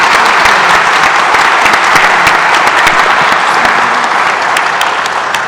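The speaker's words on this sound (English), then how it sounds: "let's everyone give our panel a big round of applause." Audience clapping for a panel at a port administration building event, loud sustained applause with crisp individual claps standing out throughout and no pause.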